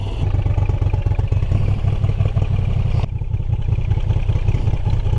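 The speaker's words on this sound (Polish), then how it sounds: "Cały silnik pięknie chodzi." A 2024 Moto Guzzi V85TT motorcycle engine idles close by in a steady, loud, throbbing rumble with mechanical clatter, running alone with no talk throughout.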